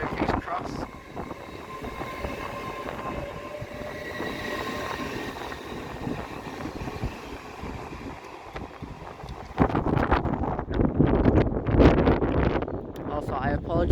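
A Class 800 train pulls out of Peterborough station on a windy day, a steady rolling rumble with wind buffeting the microphone and a louder burst of noise near the end, with someone talking over it.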